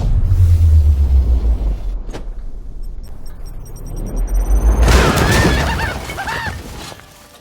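A Vindicare weapon fires and an explosion follows in Warhammer 40k Chaos Gate Daemonhunters, a heavy low rumble, a sharp crack, then a swelling roaring blast with shrill ringing tones that fades out, loud and without talk.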